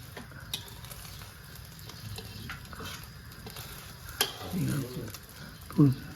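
Eggs frying in a pan give a low, steady sizzle close by, with a few faint ticks and a louder stirring scrape near the end, while people talk quietly in the background.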